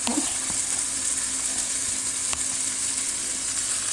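Brown rice fries in a pan with a constant bright sizzle, loud and close, with a light clink or two from a spoon.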